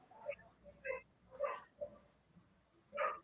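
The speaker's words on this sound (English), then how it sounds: "That's my dog fighting another dog." A dog fights another dog, giving a series of short, faint barks and yips at irregular intervals, somewhat distant, over a quiet background.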